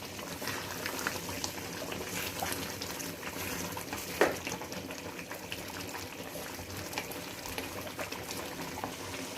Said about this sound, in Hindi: आस्ता आस्ता भुनना शुरू हो गया है और ऑयल आना नीचे से शुरू हो गया है